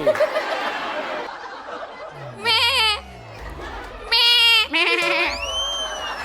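A person mimics a goat's bleat in several wavering, nasal calls during a television game show, with chatter and light laughter around them.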